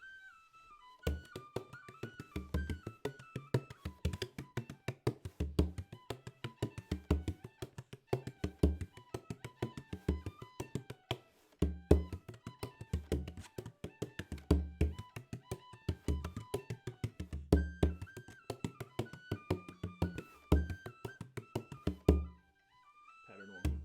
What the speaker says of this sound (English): by switching to your multi-rod beater, you get a little less of a direct thump, and it can kind of feel like it floats along a little bit better